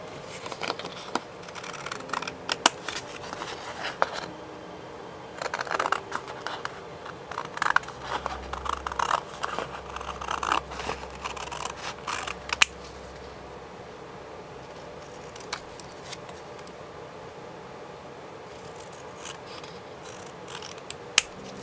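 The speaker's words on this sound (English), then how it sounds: "Got just enough time to cut these out." Scissors snip out paper tags from collage masterboards, giving quiet, scattered cutting clicks and rustles over the first half before the room settles into near silence.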